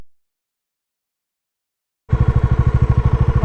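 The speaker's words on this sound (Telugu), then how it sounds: "నేను ఇట్లా స్టార్ట్ చేసి క్లచ్ వదిలేస్తా అంతే." A motorcycle starts abruptly after silence and settles straight into a loud, steady, rapid engine thump close by as it pulls away, with no talk over it.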